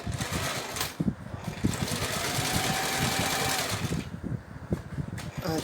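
A sewing machine zigzag-stitches a pillowcase with a rapid, rattling mechanical whir that runs nearly continuously and close by, briefly easing near the end.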